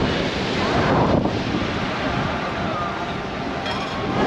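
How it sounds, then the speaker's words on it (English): Heavy wind buffets the microphone in a steady, loud roar on a beach in Tel Aviv, with the faint wash of surf underneath and no voices. "it's actually really, really windy"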